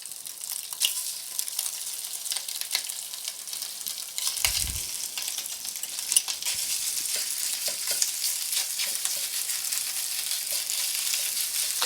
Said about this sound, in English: You want to add your Italian sausage. And you want to cook this until it's lightly browned